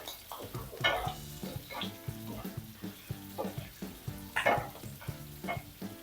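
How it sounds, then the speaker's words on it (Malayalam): Curry leaves, a single sprig, sizzle and crackle in hot oil in a pan of pumpkin and green gram curry, with bursts of spattering over a steady frying hiss and the clink of a stirring spoon. "ഇതിനകത്തോട്ട് 1 തണ്ട് കറിവേപ്പില ഇട്ട് കൊടുക്കാം."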